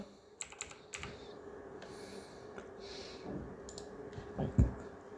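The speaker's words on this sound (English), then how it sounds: "Here I have to type Opera browser" Computer keyboard keys tapped in short irregular bursts of clicks, fairly close and quiet, while a search for a web browser is typed in Google Chrome; a louder cluster of keystrokes lands near the end.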